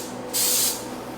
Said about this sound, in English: a little more oil. I like using this spray.